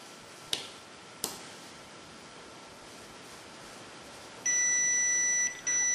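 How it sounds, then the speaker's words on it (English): A couple of sharp clicks, then a steady high-pitched electronic beep lasting about a second, clear against quiet background hiss. "And there we've got the beep."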